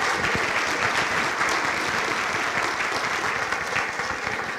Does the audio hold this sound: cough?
no